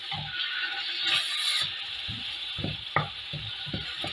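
Minced meat is broken up in a hot pan for spaghetti, with a steady sizzle under a series of spaced scraping, tapping strokes from the utensil, close and fairly even.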